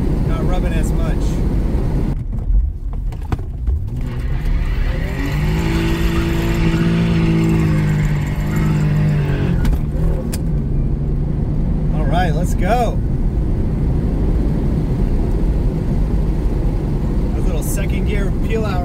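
A Toyota SC300 with a 2JZ engine accelerates in third gear, its loud, steady engine roar filling the cabin and a rising tone climbing mid-run before it settles.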